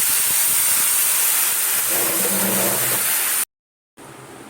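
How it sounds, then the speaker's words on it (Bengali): Hot water is poured into a pan of daliya already seasoned with Kashmiri chili powder, turmeric and salt, giving a loud, steady steaming hiss and rush that cuts out abruptly near the end, then resumes. "এবারে দিচ্ছি গরম জল"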